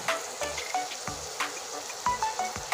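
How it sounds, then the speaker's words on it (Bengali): Water goes into a pan of simmering rupchanda fish and potato curry, bringing intermittent sizzling and bubbling with soft clinks and stirring knocks, close and fairly quiet, with no one speaking. "এবার জল দিয়ে দিচ্ছি পরিমাণ মতো।"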